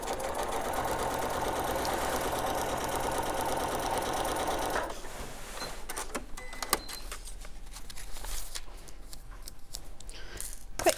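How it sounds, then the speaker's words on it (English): Domestic sewing machine stitching a short seam on a fabric bag, a steady continuous whirring run lasting about five seconds, then stopping, followed by light handling clicks and rustles of fabric and pins. "So we're just going to sew this little line now to get number 9 in place."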